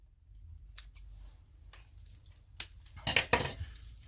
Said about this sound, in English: Then grab your ribbon. Cut it into four equal